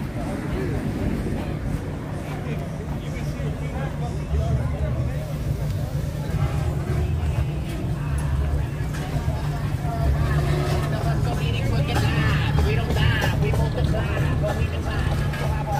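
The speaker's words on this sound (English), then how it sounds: "This rev, he's taking off right here." Car engine at a Saturday night street gathering in Downey, California, rumbling steadily with a slight rise in revs over a continuous crowd murmur, with people talking nearby.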